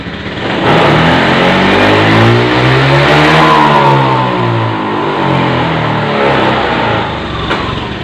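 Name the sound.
Honda Beat FI scooter engine revving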